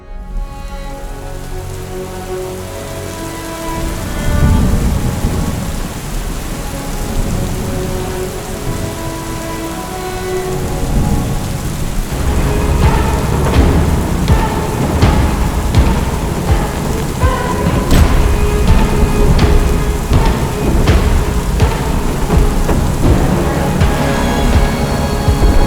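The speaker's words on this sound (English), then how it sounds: "that time lapse was from last night's storm." Heavy rain pours steadily during an African thunderstorm on the Okavango River, with thunder rumbling and crackling as the downpour grows louder and denser, no voices present.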